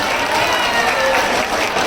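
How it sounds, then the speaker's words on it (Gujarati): Steady, dense applause from a large crowd at a garba festival gathering, loud and close, holding at an even level from start to finish with a few voices faintly underneath. "એવા અમારા હૃદયમાં બિરાજેલા સૌ યુવાન ભાઈઓને માટે એકવાર જોરદાર તાળી થઈ જાય"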